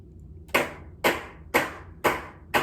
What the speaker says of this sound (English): so now the claps are just enough staggered that they're off the beat